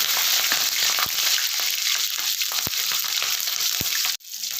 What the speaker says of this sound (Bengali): 5 ফোড়ন আর কাঁচা লঙ্কা হালকা ভেজে নিয়েছি।